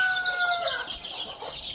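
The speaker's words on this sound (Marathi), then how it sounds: "हे बघा कोंबड्या कसं बसलं" Farm chickens clucking close by, a few sharp, high calls in quick succession over a soft background murmur, with no talk.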